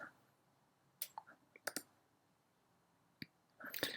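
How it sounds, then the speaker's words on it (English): A computer mouse clicks a few times at a desk during spreadsheet work, short sharp taps scattered across four seconds, near but quiet, with a brief rustle at the end. "I'm going to lock the entire sheet by right-clicking on the word sheet over there and protect sheet"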